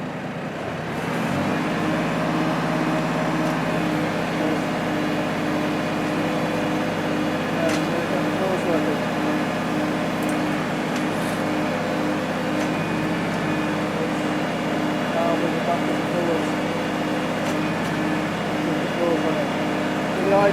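The Weedinator weeding machine runs at higher speed, producing a steady mechanical motor hum that starts early and stays even and fairly close for about twenty seconds.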